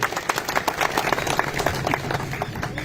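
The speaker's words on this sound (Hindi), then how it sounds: "एक बार जोरदार तालियां पूरे मंच के लिए।" A crowd at a civic welcome ceremony gives rhythmic, vigorous applause, with many hands clapping in a fairly even beat at moderate distance throughout.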